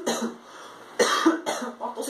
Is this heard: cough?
yes